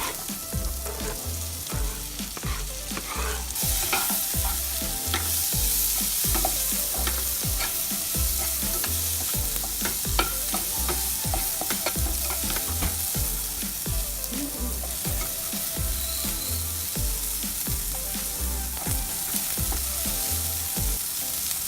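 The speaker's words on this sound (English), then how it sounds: "So now I'm adding onions in it." Onions sizzle in melted butter in a pan for macaroni, a steady crackling fry with repeated scraping and clinking of a spoon stirring, close and continuous.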